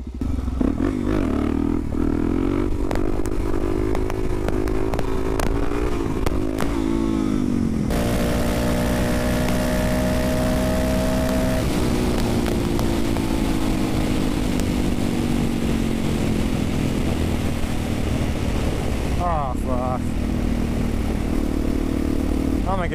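A supermoto motorcycle engine revs hard and holds high, loud and close, with rising and falling pitch through repeated wheelies and a brief clattering scrape near the end.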